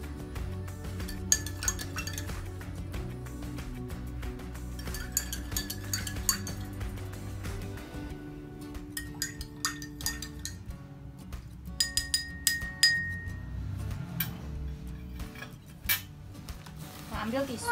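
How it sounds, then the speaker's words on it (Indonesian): A spoon stirs inside a glass for a science experiment, giving a steady run of light clinks and scraping taps that thicken toward the middle and end, set against a low background hum. "Selanjutnya kita aduk."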